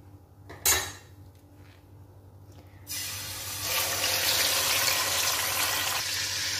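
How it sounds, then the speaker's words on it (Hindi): Half a kilo of roughly chopped tomatoes dropped into hot oil in a pan: a sudden loud rush of sizzling that swells after a quiet stretch with a brief clatter, then holds as a steady close hiss. "अब इसी तेल के अंदर मैं टमाटर शामिल करूँगी"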